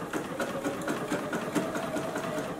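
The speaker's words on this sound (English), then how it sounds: "Now we're going to tap the pattern end and continue to sew." A JUKI sewing machine stitches a pattern on a beverage coaster in a continuous, even, rapid chatter of needle strokes, close and steady throughout.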